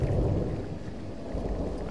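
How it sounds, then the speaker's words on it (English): Thunder and rain in Firewatch: a deep, continuous rumble of thunder over steady rainfall, loud and enveloping for the whole short stretch. "I have a feeling I might actually be caught out in the rain"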